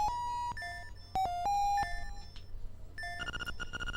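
An ocarina in Link's Awakening played without any learned song, giving short, clean, electronic tones in an irregular pattern, alone and fairly quiet, with a brighter buzzy flourish at the end.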